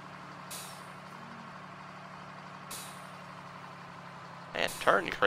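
Steady engine drone of a truck turning in Farming Simulator 2013, with two short hissing air-brake bursts and a louder clatter near the end.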